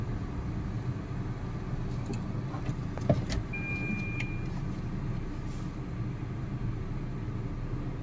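A car is driven and turned on the road, heard from inside the cabin as a steady, even rumble of engine and road noise. A few faint clicks sit on top, with no talking.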